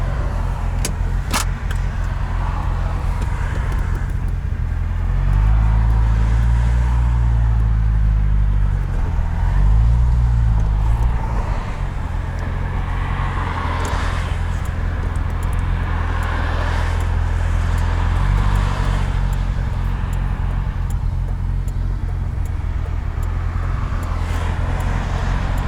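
A 2010 Corvette ZR1 on the road, its engine droning steadily with low rumbling swells as it rises and settles, under constant road and tyre noise from inside the cabin, with no talking.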